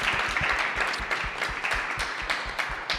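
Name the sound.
audience applause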